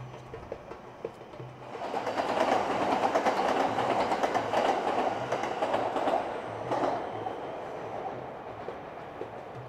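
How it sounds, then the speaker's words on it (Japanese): A JR Yamanote Line train rolls past along nearby rails, its steady rumble swelling after a quiet start and holding loud for several seconds, with faint rhythmic clicks of wheels on rail joints and a bird briefly audible. "この場所で響いてくるこのレールの音がね、打楽器みたいで すごくねリズムをね刻みたくなる"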